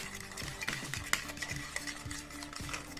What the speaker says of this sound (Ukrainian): Білок жутком перемішуємо, щоб була однорідна маса у нас.